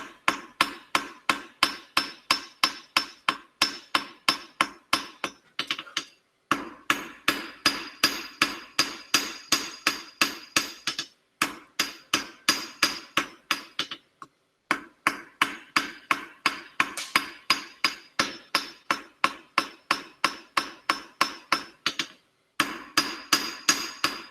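Steady, rhythmic hammer blows ringing on metal at the edge of an anvil while forging a staple, dozens in quick succession with a few short pauses, loud and close.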